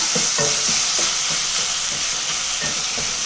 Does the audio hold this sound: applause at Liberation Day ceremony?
no